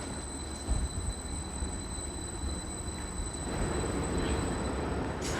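A Greater Anglia train at Ely station gives off a steady low rumble with a faint high electrical whine above it, and the noise swells slightly toward the end. No one speaks.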